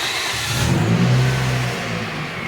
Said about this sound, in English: whatever vehicle you're hooked to, you have running